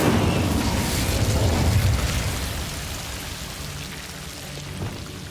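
An Incendio fire spell cast in Hogwarts Legacy produces a loud rushing whoosh and crackling roar that is strongest at first, then gradually thins into a softer, hissing crackle.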